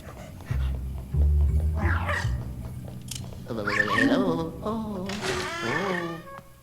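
A small dog in a Luigi's Mansion video game yips and whimpers in short bursts, mixed with game sounds and a voice talking over it.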